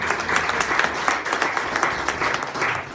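A church congregation applauds steadily, a full, continuous wash of many hands clapping close by, sustained at even loudness throughout.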